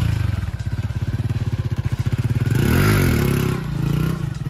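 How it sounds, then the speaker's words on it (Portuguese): A Honda Pop 110i motorcycle engine chugs in rapid pulses, then revs up twice in a rising and falling roar before settling back to idle. "duas aceleradinhas com a moto no alto"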